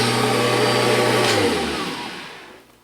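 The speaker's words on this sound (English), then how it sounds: "The drive takes over and it actually pulls the vacuum" A Kirby Generation 5 vacuum cleaner with its self-propelled drive engaged runs with a loud, steady motor whine and airflow roar that drops in pitch and fades as it winds down.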